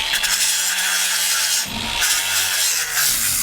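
A sandpaper disc on a power tool grinds over wood, a loud, harsh continuous rasp with a brief dip in the middle, close up and with no talk.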